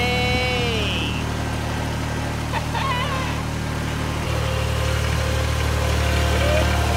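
A tractor engine idles nearby with a steady, loud, low rumble and vibration that runs unbroken throughout, while brief voices rise over it.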